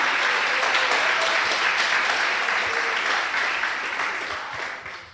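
A church congregation claps together in a sustained, even burst of applause that gradually thins and fades toward the end.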